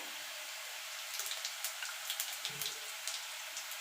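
Whole cumin seeds and bay leaves sizzle in hot oil as a vegetarian cabbage curry tempering fries, a steady fine crackle with scattered sharper pops close by, no voices.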